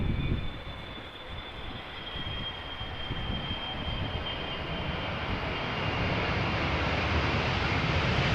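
A KLM Boeing 777-300ER touching down after a long flight, a loud sustained jet roar with a high whine that swells as the airliner passes close, with no voices.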